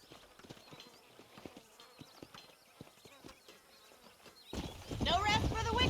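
Irregular clip-clop of horse hooves on hard ground in a video game, through most of the clip, joined near the end by a louder burst of talking voices.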